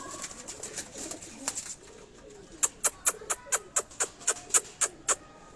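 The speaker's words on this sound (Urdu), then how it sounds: "اس کے آگے آپ یہ دیکھیں کبوتر" Pigeons on a rooftop coop in Rawalpindi give a rapid series of about a dozen sharp, evenly spaced calls, close and fairly loud, over a low background murmur.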